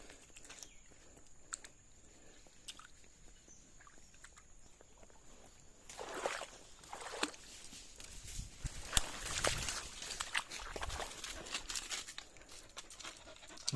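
A dog pants in quick rhythmic breaths, growing louder and busier partway through, mixed with footsteps and outdoor rustling.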